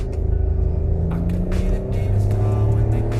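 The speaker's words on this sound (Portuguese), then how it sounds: "O carro responde bem. Pode ver que ele tem aquele barulho de enceradeira, mas bem pouquinho" A Fiat Pulse accelerating with its engine revving, a steady low rumble that swells and pushes harder through the second half, with no talk over it.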